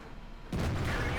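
A tank cannon in World of Tanks fires at a Super Pershing: a sudden loud, close blast cuts through near silence and its heavy rumble carries through to the end.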